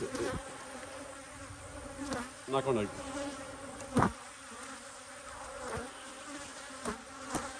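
Honeybees buzz steadily at an apiary hive with a reduced entrance, a dense continuous hum with individual bees zipping close past now and then, and a few brief words spoken.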